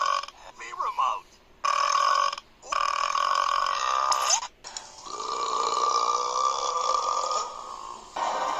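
Long, loud, drawn-out burps come one after another at close range, with brief gaps between them and a few shorter croaks mixed in.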